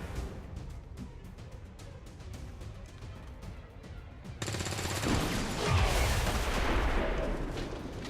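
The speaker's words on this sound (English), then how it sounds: "Yep, nice big explosion." In XCOM 2 War of the Chosen, a sudden explosion cuts in partway through, jumping from quieter gunfire-like crackle to a sustained, loud, broadband roar and rumble that lingers to the end.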